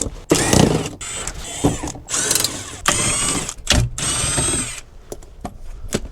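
A power ratchet or drill whirs in short bursts, removing the 8 mm bolts from the lower transfer case pan of a BMW X5 E70, loud, close, buzzing runs separated by brief pauses and clicks.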